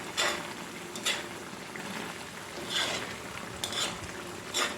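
A pan of chocolate meat stew bubbles and sizzles quietly, with occasional louder spits and scrapes of stirring.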